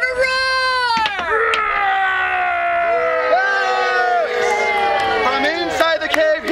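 A storytelling audience of children imitates a dragon's roar, a loud chorus of overlapping voices rising and falling over several seconds, with wavering wails mixed in.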